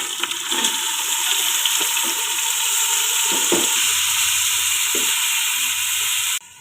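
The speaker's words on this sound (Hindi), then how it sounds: "पहले मैं ये सारी सब्जियां फ्राई कर लूँगी। इसमें मैंने बीच में मटर भी ऐड कर ली है, मटर, गाजर और आलू।" Peas, carrots and potatoes frying in a pan, a steady loud sizzle with occasional stirring knocks, ending abruptly.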